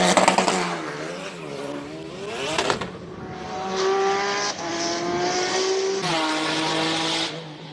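Race car with a massive rear aero wing powering up a hill climb course, its engine note rising and falling through gear changes, loud and close throughout with no voices.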